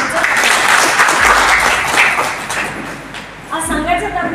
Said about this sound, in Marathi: आपण जोरदार टाळ्या वाजवून त्यांचं